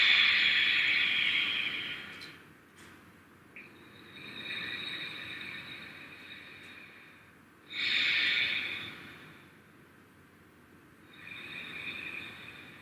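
Slow, audible yoga breaths repeat in long hissing cycles with quiet pauses between them, close and soft, with no talking.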